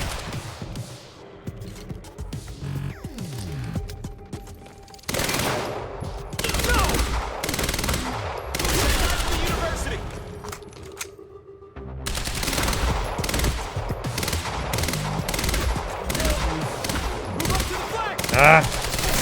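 SMG gunfire in the shooter Quantum Break, with rapid automatic bursts and scattered shots repeating through the scene alongside other game effects, while someone comments now and then.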